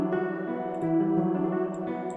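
An E minor pad chord processed through a Guitar Rig reso chord effect rings out sustained and resonant, with a steady tonal hum and a faint shimmering ring on top, alone without talk.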